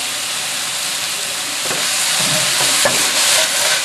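Chicken and broccoli stir-frying in a hot pan with soy and oyster sauce, a steady close hiss and sizzle that swells slightly as the food is tossed, with no talking.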